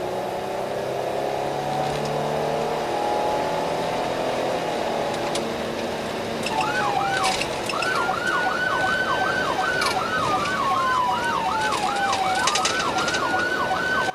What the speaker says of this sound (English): With lights and sirens on,